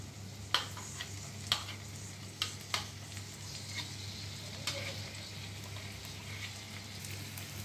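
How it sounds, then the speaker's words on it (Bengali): Onion, ginger and garlic frying in a wok for paneer butter masala, a steady soft sizzle with a low hum beneath and a few sharp clicks of a spatula stirring, close and alone without speech. "আরো 1 মিনিট মতো পেঁয়াজ রসুন আদাটা ভেজে নিয়ে"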